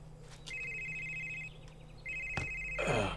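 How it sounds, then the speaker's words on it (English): A phone ringtone in the horror game Someday You'll Return rings out as two sustained electronic tones, close and fairly loud, with a brief sharp click between them and a rustling noise at the end. "it's my phone."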